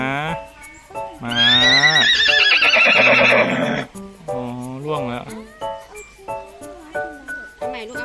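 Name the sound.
horse neighing at safari park zoo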